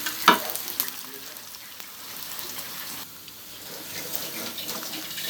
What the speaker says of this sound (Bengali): এখন কুশিয়ানা ঝালের জন্য পেঁয়াজ রসুন ফ্রাই প্যানে দিয়ে দিয়েছি।